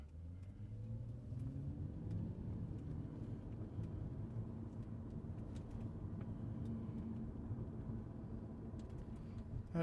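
A Lexus SC430 car accelerating, a continuous low engine rumble heard from inside, steady and fairly quiet throughout with no talking.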